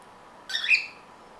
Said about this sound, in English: two cockatiels that I have.